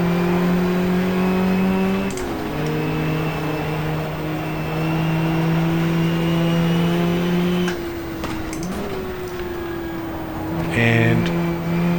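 A race car engine in the GTR2 racing game during the 1994 Suzuka 4 Hour holds a steady loud drone, dipping with gear changes and shifting pitch partway, with a brief burst of other cars near the end.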